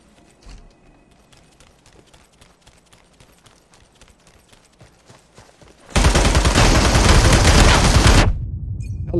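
Video game gunfire, with a run of scattered sharp single shots followed by a loud burst of continuous automatic fire lasting about two seconds, then a quieter tail.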